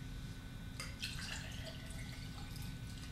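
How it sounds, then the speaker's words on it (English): Water is poured from one drinking glass into another during a child conservation task, a faint, quiet trickle and splash that starts partway through over low room hum. "now I'm going to pour it in here"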